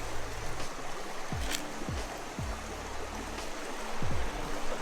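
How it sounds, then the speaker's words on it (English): A river runs steadily nearby, a constant broad rushing wash that fills the whole stretch; several short low thumps and knocks sit on top of the flow, with no voices heard. "River running in the background."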